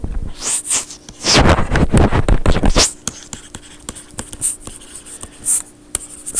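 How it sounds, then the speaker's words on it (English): A marker or chalk writing a line on a board during a spring vibrations maths lecture: a burst of dense scratchy strokes for about two seconds, then sparse light taps and short scrapes, close and alone. "maybe I'll write one more line here"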